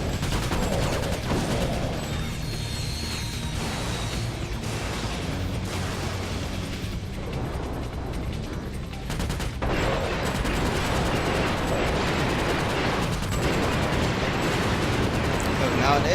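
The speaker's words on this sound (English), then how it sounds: "I don't know why the hell I was shooting that." Ratchet & Clank: Deadlocked gladiator combat in Stygia, with continuous weapon fire and explosions running dense and loud throughout, layered with game sound effects.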